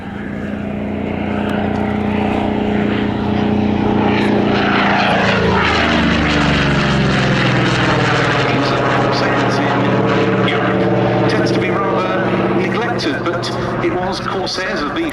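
A Corsair propeller fighter in Fleet Air Arm colours flies past, its loud piston engine drone rising and falling in pitch as it passes, with someone talking over the sound.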